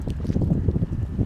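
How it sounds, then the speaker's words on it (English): Gusty wind buffets the microphone beside a duck pond, a continuous low rumbling roar with uneven surges throughout. "This might be too windy to add."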